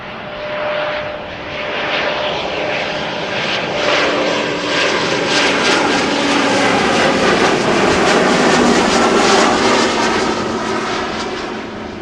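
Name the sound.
Boeing 777 jet aircraft at Amsterdam Schiphol Airport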